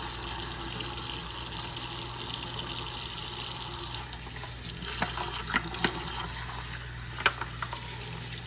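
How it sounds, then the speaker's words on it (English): A kitchen or lab sink tap runs steadily while a cup is rinsed out, giving a constant rushing stream with a few clinks and splashes of handling toward the end. "completely rinse out the cup"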